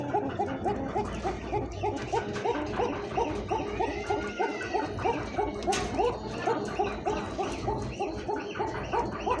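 Repeated rhythmic cooing calls from a male Coca pigeon at a pigeon market or loft, pulsing steadily throughout over a dense, noisy backdrop of other birds and activity.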